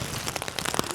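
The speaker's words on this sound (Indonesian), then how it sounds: "Tapi hujan, gimana dong?" Rain falling outdoors near Big Lake Almaty in Kazakhstan, a dense patter of drops striking a surface, close and steady for the whole second.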